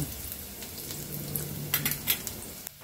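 Chopped onion and garlic fry with dried chili in a wok-style pan, a faint, quiet sizzle with a few soft clicks of stirring.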